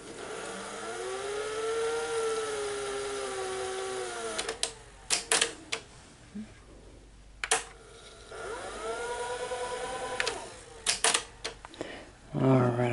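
A Sony GCS 50 industrial Betamax VCR rewinds a tape with a whirring motor whose pitch slowly rises and falls, broken by several sharp mechanical clicks and clunks.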